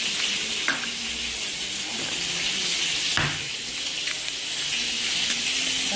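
Courgettes sizzle and fry in a pan, a continuous bright hiss with a few sharp clicks and bumps from utensils or stirring, heard close and alone without talk.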